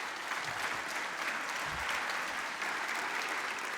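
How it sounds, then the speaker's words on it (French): Audience at the opening of the FNTV 2025 congress applauds Philippe Tabarot warmly, a steady wash of many hands clapping evenly throughout, heard from a slight distance in a large hall. "je voudrais, chers amis, qu'on puisse applaudir Philippe Tabarot chaleureusement"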